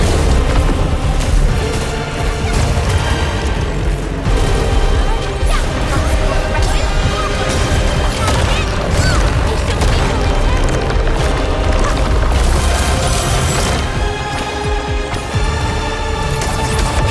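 A dense barrage of booming explosions and crashing impacts from a strike fire attack in the video game Path of Ascension, loud and continuous, layered with a driving score.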